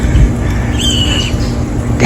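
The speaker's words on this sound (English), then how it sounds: "They're cardinals." Cardinals call outdoors in the snow, giving a brief high chirp or squawk that stands out over steady loud background noise.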